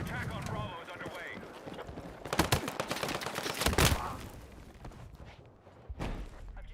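Gunfire in the Battlefield 6 video game, a couple of sharp loud shots mid-scene among rapid clattering footsteps and combat noise, with a voice talking faintly at times.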